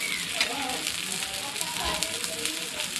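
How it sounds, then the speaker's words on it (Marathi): Fish and taro cutlets fry in a pan, a dense, steady sizzle and crackle of hot oil throughout, close up with no voices. "आता मी एक एक करून पलटी करून घेते. मस्त असे फ्राय होतात."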